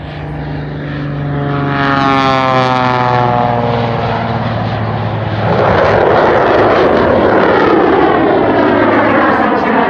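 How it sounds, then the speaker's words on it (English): An aerobatic propeller plane's engine howls loudly and steadily at an air show, its pitch sweeping and shifting as it climbs straight up and snap-rolls, growing rougher and broader midway. "You can hear the howl of the engine."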